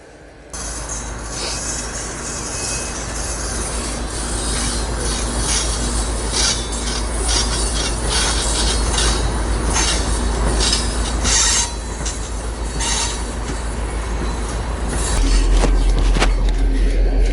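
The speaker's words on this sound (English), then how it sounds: "And this is the train coming through along" A train rolls through along Tunnel Drive near Canon City, Colorado, its wheels and cars rumbling steadily close by with occasional metallic squeals, loud and continuous for the whole stretch.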